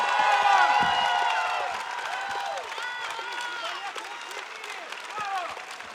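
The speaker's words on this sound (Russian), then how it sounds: "еще раз громче аплодисменты" Concert audience applauding a ballet star at an outdoor park stage: continuous crowd clapping with some cheering. A loud voice talks over it at first, then the clapping carries on more quietly.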